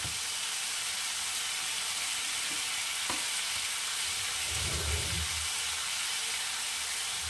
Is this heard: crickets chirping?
no